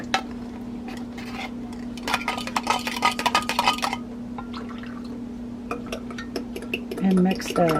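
A spoon stirring tomato soup gravy in a pot, with quick scraping and clinking bursts against the metal, then a pause and a few more taps, over a steady kitchen hum; a voice briefly speaks near the end.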